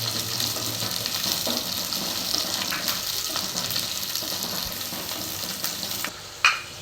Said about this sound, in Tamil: இப்போ இந்த அளவுக்கு வெங்காயம் வெள்ளைப்பூண்டு எல்லாமே நல்லா வதங்கிருச்சு.